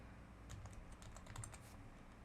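An IP address being typed on a computer keyboard: quick, light key clicks in an uneven run, close but quiet, over faint room hum, with a sharper tap at the end.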